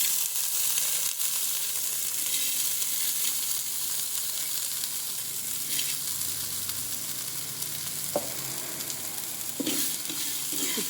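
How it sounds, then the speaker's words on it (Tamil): Garlic and tamarind fry steadily in a pan with a continuous, even sizzle. Occasional stirring scrapes break through, and no one talks. "பூண்டோடவே எடுத்து வச்சுருக்கிற இந்த கொஞ்சம் புளியும் சேர்த்து ஃப்ரை பண்ணி எடுத்துக்கலாம்."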